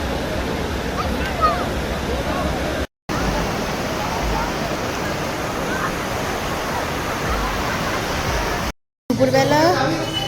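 Sea waves at Puri beach give a steady, loud wash of surf that fills the clip as broad continuous noise. Two brief gaps break it, and faint voices come through near the end.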